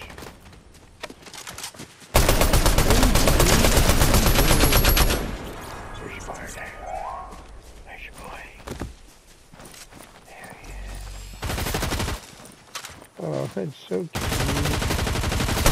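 Gunshots fire in loud, dense bursts of rapid automatic fire, broken by quieter stretches with scattered single shots and footsteps, then resume in heavy sustained volleys.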